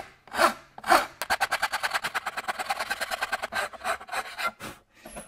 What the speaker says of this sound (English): And I'll file the other side.